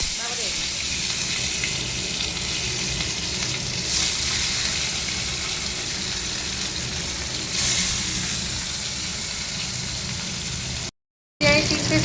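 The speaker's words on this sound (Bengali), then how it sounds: "এই 3 পিস মাছ ভেজে নেবো," Three pieces of fish frying in oil in a wok make a continuous, close sizzle that swells in places, with a short silent gap near the end.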